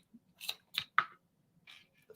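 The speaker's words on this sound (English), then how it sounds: "scissors, fringe scissors that are great for that, okay? One cut, you cut so many things" A few crisp snips from Fiskars fringe scissors cutting fabric for a no-sew cathedral ornament, three close cuts in quick succession followed by fainter handling sounds.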